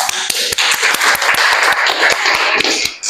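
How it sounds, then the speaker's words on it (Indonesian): A classroom group claps for group 2 in a dense run of sharp, overlapping hand claps, loud and close, fading out near the end. "Ayo tepuk tangan lagi untuk kelompok 2"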